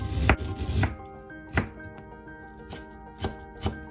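Ginger is crushed for steamed fish with hard, thudding blows on a cutting board: two heavy hits close together, then four or five sharper knocks at uneven intervals, close and clear without any voices.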